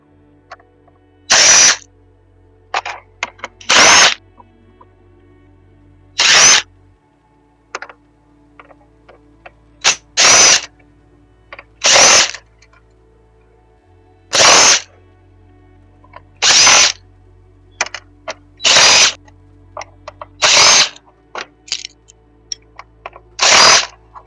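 A power drill backs screws out of scrapped e-waste casing while the device is torn apart, with about ten short, loud, evenly spaced whirring bursts separated by brief quiet gaps and small clicks.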